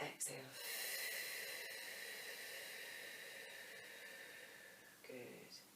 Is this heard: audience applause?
no